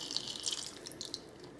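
Half a cup of water pours into a cooking pot already holding strawberries and sugar, a steady close splashing hiss lasting under two seconds with no voices.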